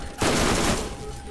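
Rapid gunfire from a video game weapon in Borderlands, a dense burst of shots that swells quickly and then trails off, with faint game sounds continuing underneath.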